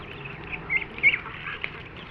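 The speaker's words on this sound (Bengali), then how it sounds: "12টা চীনা হাঁসের বাচ্চা রয়েছে" Young ducks quacking and peeping in short, high-pitched bursts, fairly close, with a steady background hiss and no voices.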